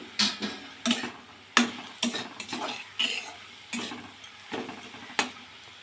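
Dry red chilies and black cumin (kalo jeere) sizzling in hot oil in a pan, with a steady hiss under repeated sharp clinks and scrapes of a spatula stirring against the metal.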